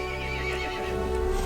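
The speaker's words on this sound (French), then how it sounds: "Le cheval se mit en colère et appela les autres monstres" An angry horse in the video game Resident Evil Village neighs in a long loud whinny with a tonal shimmer, running the full length over a low steady rumble.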